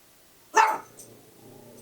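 A dog gives a single loud, close bark with a slight growling edge, heard outside after near silence, followed by low background rumble.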